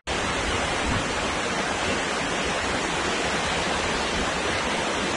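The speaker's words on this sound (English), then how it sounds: "I'm at the falls at Clutch Park. You can probably hear them in the background." A park waterfall roars as a dense, constant rush of falling water, with no break or change throughout.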